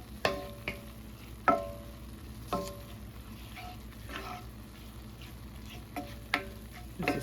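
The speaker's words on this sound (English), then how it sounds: "I'm going to saute those for at least a minute or so into the ground beef" Ground beef with taco seasoning sizzles quietly in a pan, with a few sharp scrapes and clinks of a utensil stirring it at irregular intervals over a steady low crackle.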